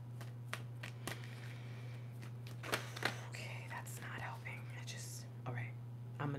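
Tarot cards being shuffled in quick, crisp bursts of riffling and tapping, up close, while a soft whispering voice murmurs underneath.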